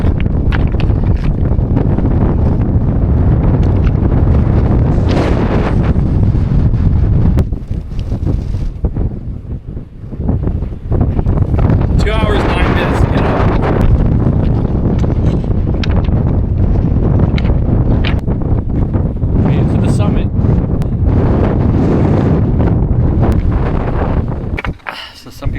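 Strong wind buffets the microphone on an exposed trail up Gros Morne Mountain in Newfoundland, a loud continuous roar that dips briefly around the middle before surging back, with a voice speaking under it.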